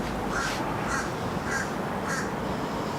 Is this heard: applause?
no